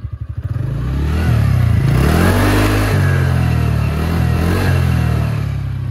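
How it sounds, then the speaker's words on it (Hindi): A TVS Ntorq 125 XT scooter engine starts and revs through its exhaust, a loud, steady, close-up drone with deep bassy pulsing that holds evenly for several seconds with no talking. "यहाँ पर एग्जॉस्ट सुन लेते हैं कि कैसा है"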